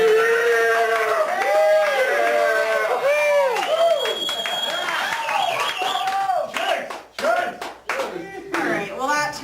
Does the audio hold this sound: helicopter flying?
no